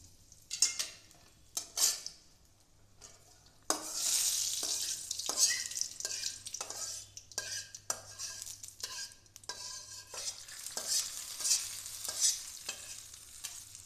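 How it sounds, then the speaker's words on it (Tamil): Mustard seeds and curry leaves spluttering in hot oil, loud close sizzling bursts with sharp crackling pops, interrupted by clinks and scrapes of a spoon against the pan, no talking. "கடுகு நல்லா பொரியட்டும். கருவேப்பிலை போட்டேன்."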